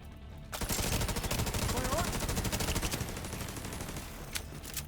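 A Tommy gun fires in a video game, a rapid, sustained automatic burst of loud close shots lasting several seconds and tapering toward the end.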